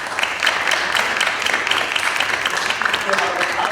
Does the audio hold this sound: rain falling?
no